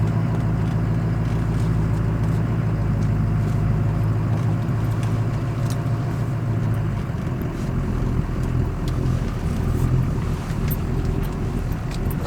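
A car engine runs steadily as a 13-year-old driving for the first time eases it down a driveway, with a low rumble that shifts pitch partway through. No one talks.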